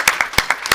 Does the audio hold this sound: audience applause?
yes